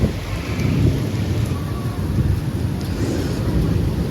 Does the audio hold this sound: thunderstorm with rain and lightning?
yes